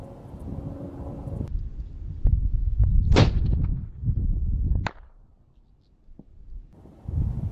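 A rifle firing at a long-range target outdoors. One sharp, loud report cracks through wind rumble near the middle, with a fainter snap shortly after, then the wind drops away.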